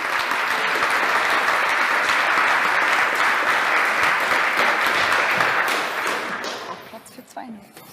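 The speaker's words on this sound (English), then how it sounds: "Applause." An audience at a PowerShell security conference talk bursts into loud, sustained applause, with dense clapping that holds steady for several seconds, then thins out and fades near the end.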